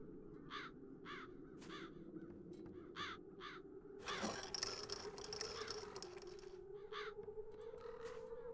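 Crows caw repeatedly in short harsh bursts over a steady low drone in The Dark Eye: Chains of Satinav, with a louder rustling swell partway through and no talk.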